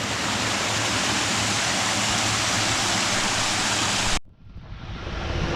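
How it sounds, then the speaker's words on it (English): A waterfall swollen after heavy rain near an abandoned home roars as a loud, steady rush of water. It cuts off abruptly, and a quieter outdoor water wash follows. "On our way back, we found it has rained so much that we found a waterfall."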